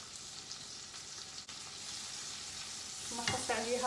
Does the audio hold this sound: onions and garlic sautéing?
yes